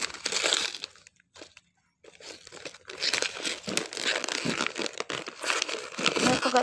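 Gift wrapping paper being torn open and crumpled close up, bursts of loud crinkling and ripping with a brief pause, continuing irregularly to the end, no speech.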